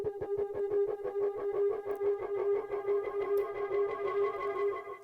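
Synth tone run through a regular delay with chorus and distortion, a steady buzzing pitch pulsing in rapid repeating echoes that pile up evenly, dense and loud with no voice.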